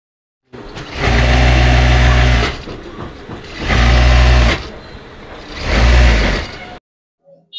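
An old Juki sewing machine runs in three steady, loud bursts of motor whir, each a second or two long, separated by short quiet pauses, with no voices.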